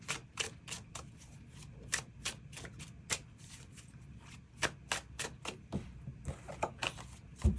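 Tarot cards are shuffled by hand in a long series of crisp papery riffles and slaps, irregular but steady, close and fairly quiet.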